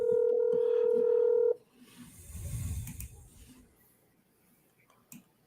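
A steady tone plays from a telephone line for a moment before cutting off, followed by faint handling noise and quiet background during a call on a sports talk show.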